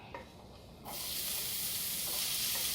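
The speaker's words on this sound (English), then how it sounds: "And we're going to just go ahead and place them in the skillet." Chopped vegetables dropped into a hot oiled skillet on a stove burst into a loud, steady sizzle that starts suddenly and continues alone after a few quieter kitchen sounds.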